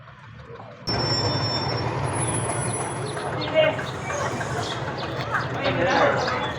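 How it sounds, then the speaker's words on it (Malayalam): A train rumbles and rolls along the tracks, departing Ooty railway station, with a brief high squeal, a continuous mechanical roar with voices in the background. "അങ്ങനെ ഞാൻ വന്നിറങ്ങിയ ട്രെയിൻ തിരികെ പോവുകയാണ്."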